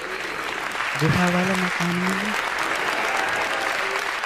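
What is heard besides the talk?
audience applause at poetry event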